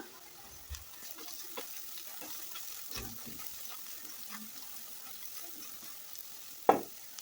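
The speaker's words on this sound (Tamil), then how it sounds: "இப்போது பாதி அளவுக்கு கொஞ்சம் அதிகமாகவே மிளகாத்தூள் சேர்த்து ஒரு நிமிஷம் வதக்கிக்கலாம்." Chili powder sautés in a pan for kadai paneer: a soft, steady sizzle with occasional spoon scrapes and stirring knocks, and a sharp clink near the end. It is quiet and close, with no voices.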